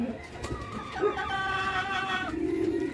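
Pet pigeons at feeding time, their soft cooing and warbling carrying through the clip against a low background hum, with brief bursts of bird calls.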